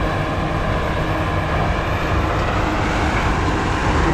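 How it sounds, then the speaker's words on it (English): A Rotochopper grinder chewing through whole trees fed by a Kobelco excavator, heard as a loud, steady, dense roar of heavy machinery throughout, with no pauses or talk. "I'll try to get you guys some cool shots of the Rotochopper being fed"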